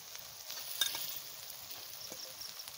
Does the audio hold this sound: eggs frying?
yes